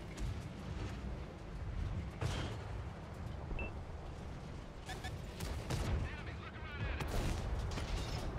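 Tiger II tank firing its small gun in a combat video game, a rumbling battlefield of repeated gunfire and distant booms with sharper cracks near the end, low-end heavy and continuous.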